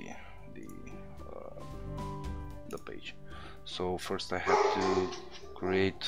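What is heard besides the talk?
dog barking in the house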